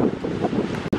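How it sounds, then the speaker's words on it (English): Strong wind blows at an elevated beach spot on a Memorial Day weekend, buffeting the microphone in a loud, continuous rumble with a brief dropout near the end. "It is windy up here, as you can probably"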